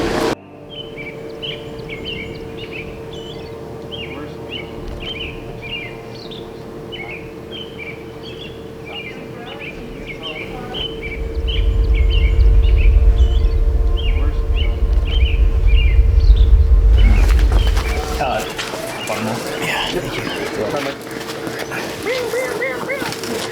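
Small birds chirp and twitter repeatedly outdoors at sunrise during a backyard ultramarathon, moderately near, before a low rumbling noise swells in the middle and the calls fade under louder handling sounds.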